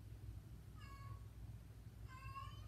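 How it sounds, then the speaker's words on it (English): A female cat in heat yowling indoors, two drawn-out, wavering meows about a second apart, faint over a low steady background hum. "My cat is in heat and she's screaming,"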